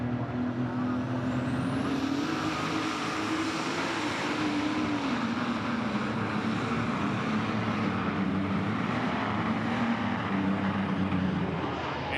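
Super modified pulling tractor engine roaring at a tractor pull in Farley, a loud, steady, near roar that holds throughout with a slowly shifting pitch.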